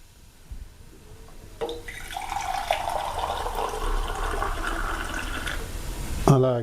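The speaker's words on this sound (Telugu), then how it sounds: "ఈ ప్లేట్లో కొన్ని వాటర్ పోయాలి." Water pours steadily onto a metal plate set on a curry pot, a continuous splashing stream that stops near the end with a clink.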